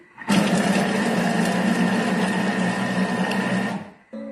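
A Thermomix chops ingredients at speed 5, giving a loud, steady whirring buzz that runs for a few seconds without a break and then cuts off abruptly.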